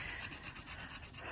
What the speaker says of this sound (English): this is the breathing of the dogs walking in 28 degrees, 5 kilometers